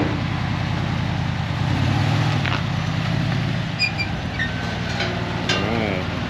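An old daily-driver car engine running steadily close by, a continuous low idle hum throughout with faint background noises and brief bird-like chirps near the end.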